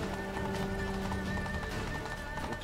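Horse hooves clip-clop at a steady running pace in the video game Witcher 3: Blood and Wine, with a continuous rapid thudding over a dense game backdrop carrying a faint sustained tone.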